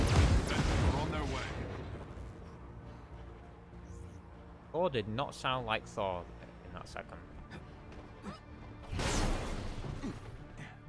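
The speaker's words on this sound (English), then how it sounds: "I sort of feel like Explosions needs its own separate volume dial" Loud video-game explosions: a heavy broadband blast opens and another closes the stretch, with someone talking between them.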